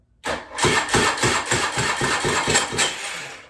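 A small go-kart engine cranks and catches, sputtering into a loud, rapid, uneven idle that runs steadily after a sudden start.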